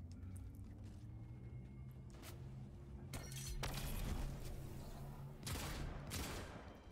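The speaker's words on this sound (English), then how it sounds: "We're getting shot at." Gunfire in the video game Fortnite crackles in several separate bursts, some sharp reports and a heavier rumbling stretch in the middle, at moderate volume with no talk over it.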